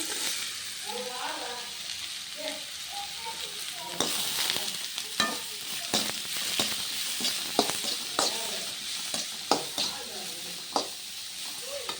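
Chopped bottle gourd sizzles and is stirred in hot oil with a tempering, a steady frying hiss broken by close scraping strokes of a spoon against the pan.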